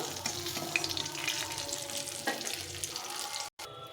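Halved new potatoes frying in oil in a wok, a close, continuous crackling sizzle with occasional stirring scrapes and a brief cut near the end.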